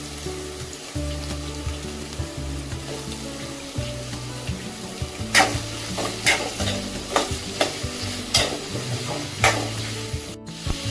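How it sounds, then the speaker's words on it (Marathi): Chopped onion frying in oil for chicken biryani, with a continuous close sizzle and repeated sharp scrapes as a spatula stirs it. Some hum from a kitchen background, no talking. "आणि हा कांदा आपल्याला व्यवस्थित असा विरघळेपर्यंत ह्याला या तेलामध्ये फ्राय करायचा आहे"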